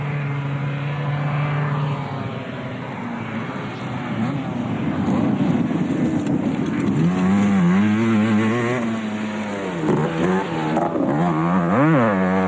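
Motorcycles and cars compete together in an eight-hour race. Loud, close engine roar fills the whole stretch, rising and falling in pitch as vehicles rev and pass by.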